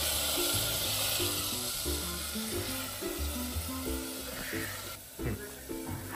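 Cluster beans (gawar) being stir-fried in oil for a Nashik-style Maharashtrian bhaji give a steady broadband sizzle throughout, with background music and a short stirring scrape near the end.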